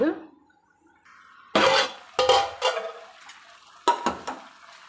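A lid is set over a pan of frying chicken pieces seasoned with salt and chili, giving a few sharp metallic clanks and scrapes with faint sizzling in between.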